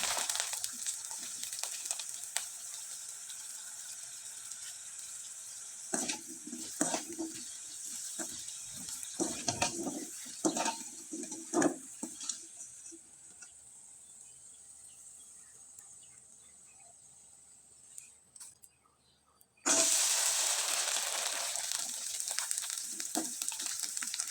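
Sago (sabudana) pitha crackers frying in hot oil, with soft bubbling and sizzling that rises and fades in bursts, then a loud, steady sizzle when a new batch goes in near the end.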